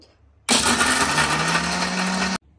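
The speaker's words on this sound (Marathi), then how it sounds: "आता आपण मिक्सरवर बारीक करून घेऊ।" A kitchen mixer grinder pulverises Parle biscuits into fine powder, whirring loudly and steadily in one close burst of about two seconds that starts and stops abruptly.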